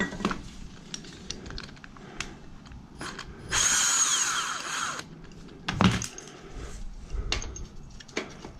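A bolt is worked loose from a motorcycle rear-set with a ratchet, giving sharp scattered clicks and taps up close, then a short sustained rasping burst, with more clicking and light metallic handling afterward and no talking.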